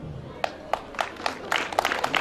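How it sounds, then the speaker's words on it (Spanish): Clapping rises at the 2014 Paucarcolla livestock, craft and food fair, beginning as a few scattered, separate claps and building into denser, steadier applause from a small crowd over faint background noise. "para que empiece un fuerte aplauso"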